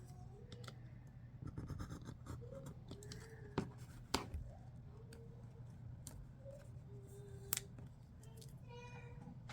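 Scissors snip and trim planner paper up close, with faint scratchy cuts and a few sharp clicks scattered over a quiet room hum.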